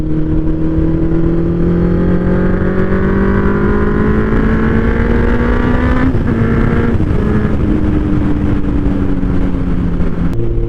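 A Kawasaki Z1000 motorcycle engine drones loud and steady while riding, its pitch climbing gradually as it accelerates, dipping briefly mid-run, then holding on under constant wind rush.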